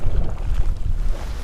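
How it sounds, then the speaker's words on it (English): Strong wind gusts buffet the microphone on a lake during a kayak bass fishing tournament, a loud, steady rumbling roar with no speech. "windy as a son of a bitch"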